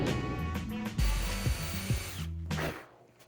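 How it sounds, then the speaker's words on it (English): A power drill boring into wood whirs in short bursts, speeding up and slowing, close by, with a grinding bite as it works into the material before stopping. "start the drill slowly to let those spurs perfectly score the wood fibers"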